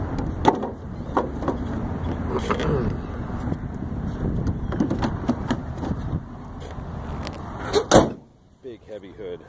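Heavy steel hood of a 1985 Buick LeSabre Custom with failed prop struts being lowered from its prop stick, with rattling and handling noises before a single loud slam near the end, then quiet.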